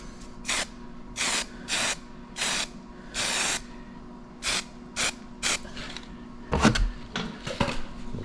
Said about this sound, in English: aerosol primer, good enough for that.